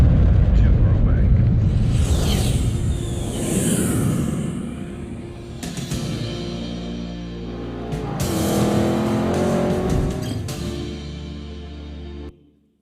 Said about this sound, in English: you will hear and feel sports cars flying past you